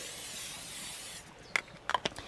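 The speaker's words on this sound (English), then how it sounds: "Going to get all of the grates sprayed first so our shrimp doesn't stick to it." Cooking spray is misted across the grates of a gas grill, a steady hiss that fades and then breaks into a few short, sharp spurts at close range.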